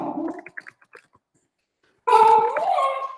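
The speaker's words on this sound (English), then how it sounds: "sorry, my dog, we just got a new dog" A newly adopted dog whimpers in a few soft, brief whines, then after a pause gives a louder, drawn-out whining cry close to the microphone.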